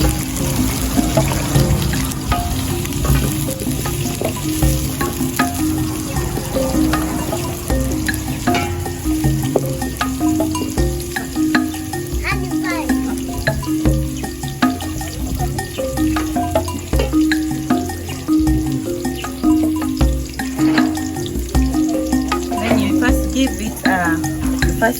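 Onions frying in cooking oil in an African village kitchen, giving a steady dense crackling sizzle that runs unbroken for the whole stretch, close and loud, with faint stirring and occasional background sounds mixed in.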